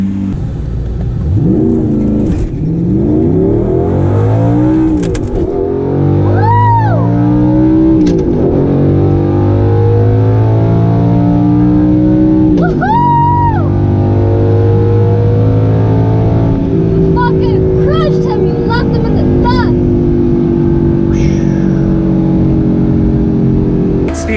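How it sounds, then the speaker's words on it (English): Audi R8 with a full custom exhaust accelerating hard down a quarter-mile drag strip, loud engine revs rising through repeated gear changes with brief pops between shifts, heard continuously from inside the car. "We're going to hit the quarter mile, see what times we can do with this car compared to stock."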